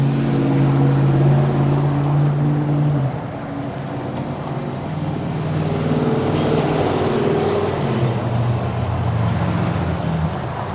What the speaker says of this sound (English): the parade of really loud trucks towing boats going past my house is done